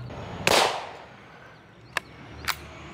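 A .22 Magnum rifle fires one sharp, loud shot with a short decaying tail, followed by two fainter, quick clicks or ticks.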